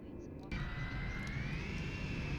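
An L-1011 airliner spools up for takeoff in the Prepar3D flight simulator, a steady loud jet roar with a rising whine that swells abruptly and holds, continuous throughout.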